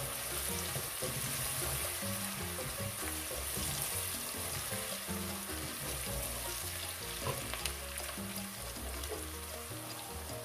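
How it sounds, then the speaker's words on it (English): Onions and tomato paste fry in oil for jollof rice, a close, continuous sizzle and crackle with faint stirring, steady and fairly quiet with no talk. "Fry your onions for just 2 minutes and you add in your tomato paste"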